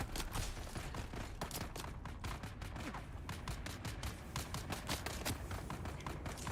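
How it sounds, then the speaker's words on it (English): Shotgun darts firing in the video game Dune Awakening, a rapid run of sharp cracking shots over a steady noisy wash, moderately loud throughout. "Shotgun darts."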